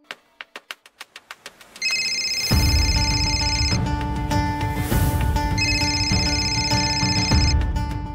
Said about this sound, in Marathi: हे बघ कोणाचा फोन.